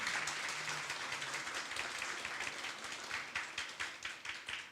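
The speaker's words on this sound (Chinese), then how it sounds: "好，请大家拍手欢迎。" A church congregation at a Sunday Mandarin worship service clapping together to welcome a newcomer, a faint, steady patter of many hands heard from a distance across the hall.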